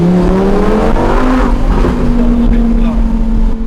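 A supercar's engine revs loud and close, its pitch sliding up then easing into a steady high drone, with a voice speaking over it.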